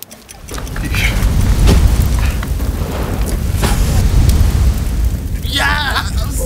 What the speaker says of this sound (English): Look at the way it's burning.